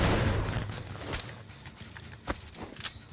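Deathslinger's harpoon gun firing in Dead by Daylight: a sharp early burst followed by scattered metallic clicks and rattling mechanical clanks, moderately loud and fading in intensity.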